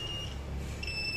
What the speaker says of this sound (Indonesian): kalau satu jalur dia kan bunyi. Itu buzzer ya.